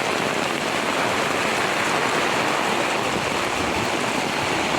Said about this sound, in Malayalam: അപ്പൊ ഇവിടെ ഫുള്ള് മഴയാണ്ട്